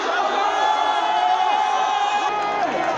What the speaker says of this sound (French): Devant une foule immense massée à la mythique place Bambaya de Ziguinchor, Ousmane Sonko a déclaré